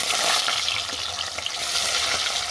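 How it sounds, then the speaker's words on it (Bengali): Fish fries in hot oil in a pan, giving a steady, dense sizzle that carries without a break from start to finish, close and fairly loud, with no voices. "দেখো তেলটা গরম হয়ে গেছে প্রথমে মাছটাকে ভেজে নিচ্ছি"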